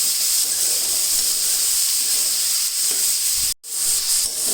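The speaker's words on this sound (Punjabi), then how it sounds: "ਲਓ ਜੀ ਦੇਖੋ ਤਰਬੂਜ ਫਰਾਈ ਹੋ ਗਿਆ" Watermelon pieces frying uncovered in a pan for a spicy Punjabi sabzi give a steady, close hiss and sizzle with light stirring, broken by one brief drop to near silence near the end.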